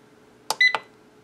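A Cook Joy air fryer starting up after its start button is pressed: a sharp click, a brief high electronic beep, then another click, all close and crisp in a quiet room.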